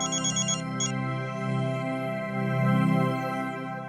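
A phone rings with a melodic ringtone, a steady tonal pattern playing continuously and clearly at moderate volume, with no talking over it.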